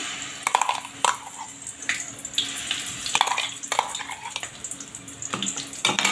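Onion-garlic-ginger paste stirred into a sizzling masala with cinnamon for paneer masala, giving a steady fry with regular scraping strokes of a spoon against the pan.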